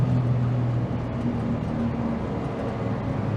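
A 2007 Smart Fortwo W451 Passion with a turbocharged engine accelerates from 0 to 60 in its automated gearbox mode, giving a steady, loud droning engine and road noise heard from inside the cabin.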